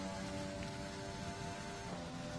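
Steady rain hiss in the F1 2020 racing video game at the Canada round, a dense continuous patter of water over a low engine-like hum, with no talking.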